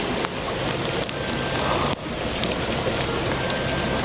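Heavy rain pouring down steadily and loudly, a dense constant hiss of drops on surfaces, with no speech.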